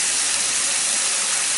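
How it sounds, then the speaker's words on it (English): Steak sizzling in a pan for steak and chips, a loud, steady, broadband hiss close up with no voices over it. "just listen to that sizzling"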